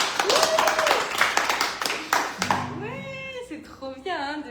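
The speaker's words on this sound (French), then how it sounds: "J'applaudis pour vous." A single person claps hands at a live Indian music and mantra meditation concert, a brief burst of close, sharp claps at the start, followed by singing and talk.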